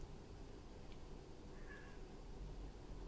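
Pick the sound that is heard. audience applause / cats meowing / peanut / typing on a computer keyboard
cats meowing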